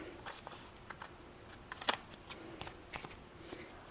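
Cardstock being cut for a sunburst die-cut card, quiet close snips and papery ticks scattered irregularly over a low hiss.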